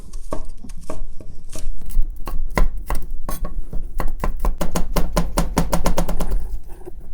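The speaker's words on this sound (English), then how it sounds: "Garlic. Just give it a rough chop." A knife roughly chops garlic on a cutting board with rapid, sharp, close knocks, first irregular and then speeding into a quick steady rhythm, with no voices.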